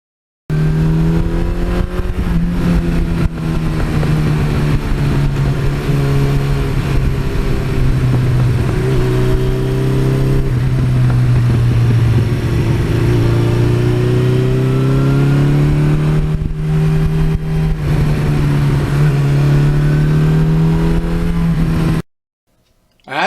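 A 1982 Suzuki GS1100E motorcycle idling and revving through a 1986 exhaust system, a loud close steady engine drone with rising and falling revs, alone for most of the stretch before cutting off near the end.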